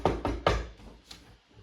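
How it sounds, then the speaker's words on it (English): Three quick, fairly loud knocks on a door in a tight burst, followed by a fainter single tap and then quiet room tone. "That's knocking. Somebody knocking."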